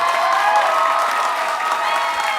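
A dense wash of audience applause mixed with cheering fills a fan-convention panel room, loud and continuous for a couple of seconds with no clear talk.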